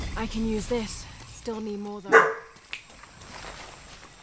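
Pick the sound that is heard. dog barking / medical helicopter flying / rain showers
dog barking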